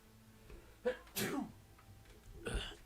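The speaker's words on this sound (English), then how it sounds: "I have a sneeze coming up." A single close, sharp sneeze from a person, preceded by a quick breath, with a second smaller burst a moment later in an otherwise quiet room.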